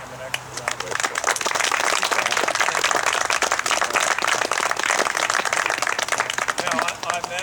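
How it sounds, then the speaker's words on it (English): A crowd claps steadily through an outdoor wastewater plant dedication ceremony, dense and sustained applause at full strength from start to finish with no speech over it. "So join me in giving him an extra round of applause."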